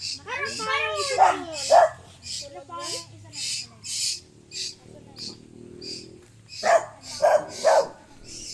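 Several short, sharp barks from a nearby dog, in two bursts with pauses between, along with some talking.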